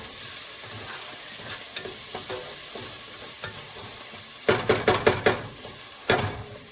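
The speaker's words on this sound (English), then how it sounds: "Give it a stir." Seasoned lasagna sauce with salt and pepper is stirred in a pan over a constant sizzle, then a quick run of five sharp spoon scrapes and a final knock near the end, close and without talk.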